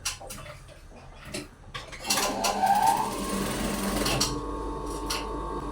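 Sewing machine stitching a lined dress neckline, heard as a quiet whirring run with ticking and light clicks that grows somewhat louder midway.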